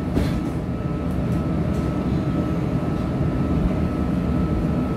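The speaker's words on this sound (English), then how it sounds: "This is an Orange Line train to Midway." A CTA Orange Line rapid transit train rolls onward after its doors close, a steady loud rumble and hum heard from onboard car #2935, with no talk.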